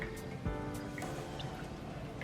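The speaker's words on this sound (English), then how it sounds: "So now our water is drained," Water drains from soaked dried mushrooms for mushroom barley soup, with faint, scattered drips and a soft trickle, quiet and close.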